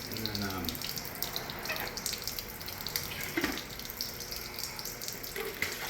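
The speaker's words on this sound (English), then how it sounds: "this water is coming from here. The pressure coming out there." Water flowing steadily from the outlet of an Aquasana filter system during a filter and UV bulb change, a continuous close splashing rush with soft clunks.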